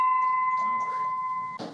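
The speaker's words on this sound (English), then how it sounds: "I'm ringing the bell." A bell rung in a house during a reality show challenge gives a steady electronic chime-like tone that holds for about a second and a half. It ends in a brief burst of noise, with faint room sounds and voices around it.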